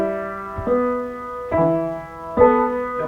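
Piano playing slowly, three spaced chords each struck and left to ring and fade, close and moderately loud, alone without speech.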